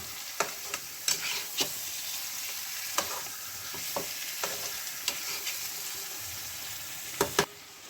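Vinegar-marinated chicken with spices for a biryani sizzles in a pan under a soft continuous hiss, with scattered sharp spatula scrapes and knocks against the pan and no speech.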